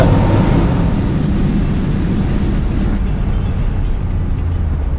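A Porsche 911 engine runs with a full straight-through exhaust, a steady, loud low rumble held throughout with no talk over it.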